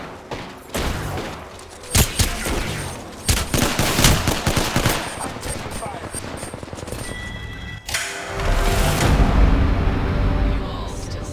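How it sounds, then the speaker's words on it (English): Automatic weapon fire from an Apex Legends match, loud bursts of rapid shots with sharp single cracks, clustered mid-clip and resuming as denser sustained firing near the end, with game sound effects around them. "They spotted me. I'm taking shots."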